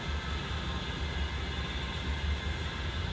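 A CSX freight train hauled by AC44 locomotives rolls past in a continuous broad rumble and wheel noise, steady and fairly close, with no talking.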